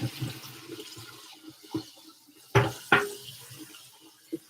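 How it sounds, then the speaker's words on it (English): Cold tap water runs over freshly boiled eggs in a kitchen sink, with soft splashing, a couple of sharp clunks and knocks of the eggs or pan, and no talk. "Get some cold water on that"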